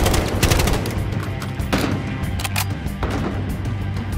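Dense, loud gunfire from shotgun-armed fighters in the Battlefield Hardline campaign, with overlapping blasts in a nonstop chaotic barrage.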